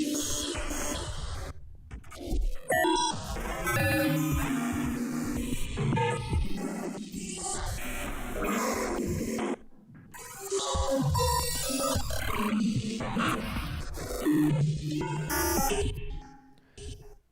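A dense, evolving Phase Plant generator preset called Dawn of the Final Day, layering chaotic, glitchy tones and noisy textures that swell and break off in a couple of brief gaps, loud and continuous with no talking.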